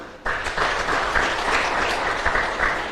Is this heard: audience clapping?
yes